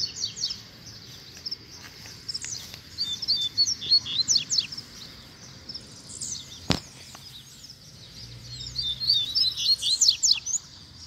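Rusty-collared seedeater calling near cages, bright rapid chirps and twittering phrases coming in bursts, fairly clear against a quiet outdoor background with a sharp click midway.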